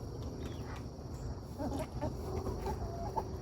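Jumbo Cornish chickens on a half-acre homestead cluck softly in a short, scattered burst of low calls, fairly faint against quiet background noise.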